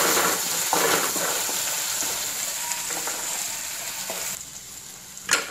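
Onion chutney frying in a pan as salt is mixed in, giving a continuous close sizzle with soft stirring scrapes and a brief louder clack near the end, no talking.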